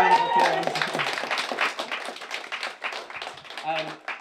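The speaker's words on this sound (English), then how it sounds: "applause" Audience applause at an evening jam event: a dense, steady patter of many hands clapping close by, filling about four seconds, with a faint tone and brief murmurs mixed in.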